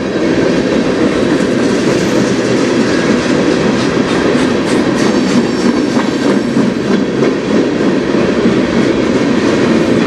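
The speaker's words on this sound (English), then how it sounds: "The other one behind it that's going by is an industrial train." A CN freight train with locomotives passes by on the Strathroy Sub, a loud continuous rumble with rhythmic wheel clatter and faint squealing, close and steady throughout with no talk.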